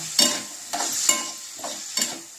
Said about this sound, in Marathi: आणि त्यात आपण हे हरभरे परतायचे